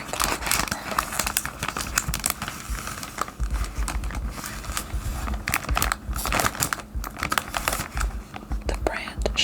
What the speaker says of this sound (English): Now these also have a nice crinkling wrapper.